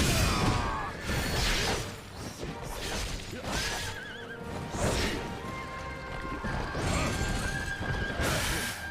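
Several loud horse neighs and whinnies from a mount in the action game Wo Long: Fallen Dynasty, spread across the stretch amid game combat noise, clanks and crashes.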